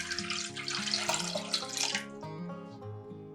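Water rushes loudly into a kitchen pot of vinegar, salt and sugar brine for pickling eggplant, a close, continuous pour of about two seconds that stops, leaving soft background music.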